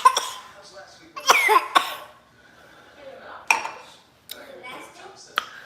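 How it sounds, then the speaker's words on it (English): Several sharp coughs burst out close by, mixed with background chatter and a few light clinks of dishes. "he coughing all in my face"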